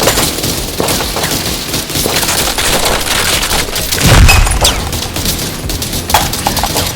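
Sustained video game gunfire in a mercenary roleplay, a loud rapid fusillade of overlapping shots with a heavier boom midway, continuous throughout and without talk.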